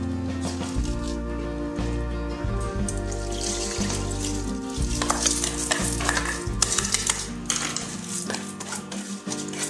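A spatula scrapes and pats rice flat inside a rice cooker pot, giving a steady run of soft scraping, knocking and rustling strokes close by.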